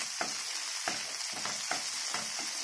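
Steady sizzling of onions sautéing in a pan for bread upma, with a few periodic scraping stirs punctuating the crackle; no voices.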